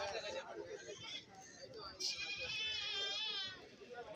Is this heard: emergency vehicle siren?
no